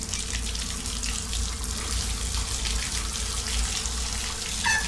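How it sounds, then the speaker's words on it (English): Water runs steadily from a bathroom tap, a continuous close splashing hiss that holds at an even level for a few seconds with no voices. "the sound of water rang out again, this time louder than before."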